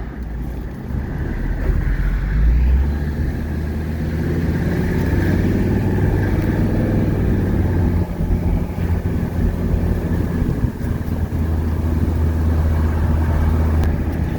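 Inside a 1983 Mercedes 300CD coupe on the move with every window and the sunroof open, a loud, steady rush of wind buffeting blends with low engine and road rumble throughout.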